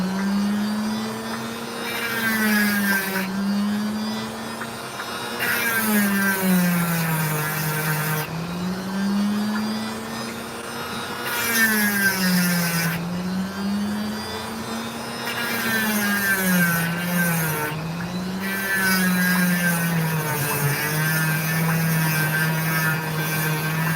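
A Dremel rotary tool cutting into opal whines in a high, wavering motor tone that dips and rises as it bites, with repeated bursts of gritty grinding over about twenty seconds, close and loud.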